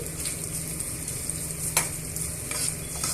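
Sliced onions and beans fry in a pan with a constant close sizzle, and a spoon stirs and scrapes through them, including one sharp clatter partway through.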